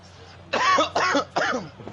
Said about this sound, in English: I keep coughing.